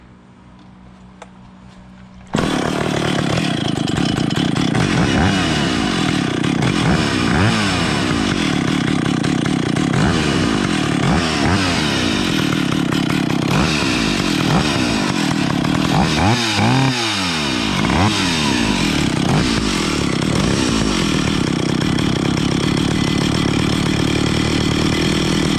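A Stihl 031AV chainsaw engine, restored and still cold, starts after a brief quiet moment and then runs loud and close for a long stretch, a buzzing roar with repeated rising and falling revs.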